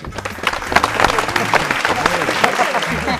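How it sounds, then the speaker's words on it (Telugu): A college audience at a televised game show in Nalgonda claps loudly and continuously, a dense close wash of applause with a voice briefly over it. "ఒకసారి గట్టిగా క్లాప్స్ కొట్టండి అందరూ"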